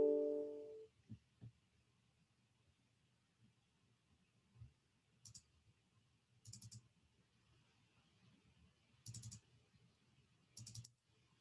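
Computer mouse clicks while a downloaded file is opened: a few sharp isolated clicks near the start, then sparse faint clicks and short bursts of brighter tapping spaced several seconds apart, all quiet against a low hum.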